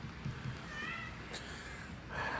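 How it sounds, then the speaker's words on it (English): A cat meows indoors in a house, two or three short, moderately faint calls rising above a quiet room with low background noise. "There's a cat."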